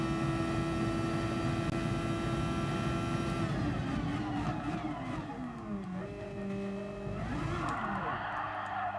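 A turbocharged race car in a racing video game at Monza roars steadily at high revs down the main straight, then its pitch drops and climbs again through gear changes, loud and continuous with no talk.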